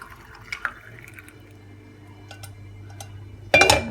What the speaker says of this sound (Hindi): अब इसका हम आराम से फिल करेंगे और इसको यहाँ डाल देंगे ऐसे करके।